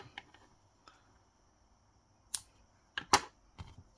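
Scissors snip off a yarn tail during crochet work, giving a few quiet, sharp clicks in a near-silent room, with two close snips in the middle and a softer one after.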